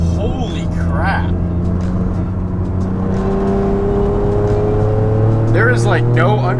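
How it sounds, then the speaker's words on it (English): A Bugatti hypercar pulls hard at full throttle in third gear, its engine note a loud, rising whir and roar that holds strongly throughout, with a voice exclaiming over it near the end. "that was full throttle in third gear coming out of it"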